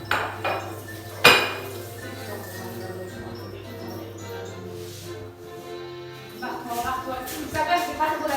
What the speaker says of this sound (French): nous allons commencer par faire fondre les 2 Mars et un Snickers